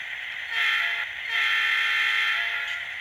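A Proto 2000 Alco PA model locomotive's onboard sound unit plays a horn in two blasts, a short one and then a longer sustained one, steady and fairly quiet with no talking.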